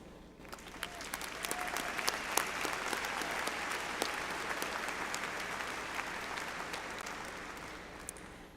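An audience at a university graduation ceremony claps steadily in a large hall, a dense, sustained wash of applause that holds for the whole stretch and only starts to thin at the end.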